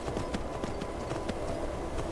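Horse hooves clip-clop steadily in Skyrim as the mount eases down a slope, a quick, close, even rhythm of hoofbeats over a faint game backdrop.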